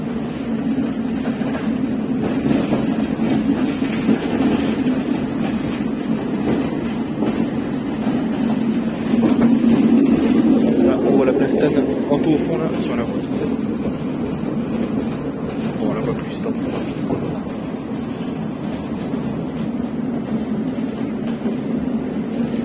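Steady rumbling hum of a tram running on Nancy's T1 line in a video game, a continuous low drone with rolling wheel noise that swells briefly midway, with no one speaking.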